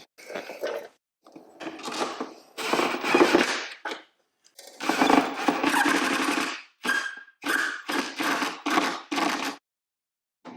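Bursts of a power tool tightening the upper bolts on a Harley-Davidson Road Glide motorcycle fairing, several loud close rattling runs of a few seconds each separated by brief pauses.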